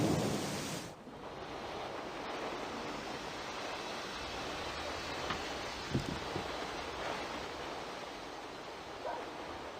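A video game storm roars as steady broadband wind and rain noise, with a faint low rumble of thunder rising briefly midway.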